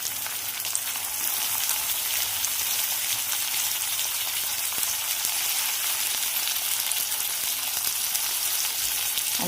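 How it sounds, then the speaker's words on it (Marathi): Tomatoes tossed onto onions frying in oil, a dense continuous sizzle close by, crackling steadily throughout with faint stirring clicks and no speech. "आता लगेच मी टोमॅटो टाकून घेते."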